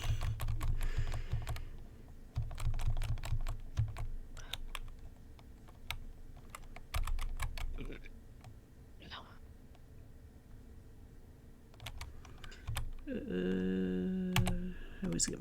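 Computer keyboard keys clatter in quick bursts of clicking and typing throughout, with occasional talk and a game's music and effects mixed in.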